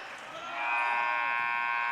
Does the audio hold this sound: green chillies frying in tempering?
no